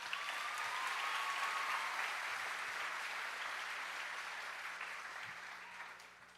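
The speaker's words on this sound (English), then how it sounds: "Give you guys a round of applause." Steady applause from a graduation ceremony audience for the Westhill High School class of 2024, a dense, even patter that fills the hall and slowly fades toward the end, with no talking over it.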